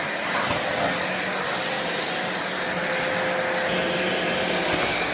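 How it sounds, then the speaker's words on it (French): Philips XC8055 cordless vacuum cleaner running on a rug, a steady, dense whooshing hum with a faint whine, continuous and close throughout with no talking. "L'aspirateur s'adapte au tapis"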